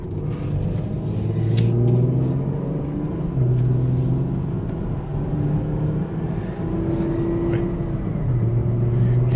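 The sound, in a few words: 2003 Honda Pilot shifting into third gear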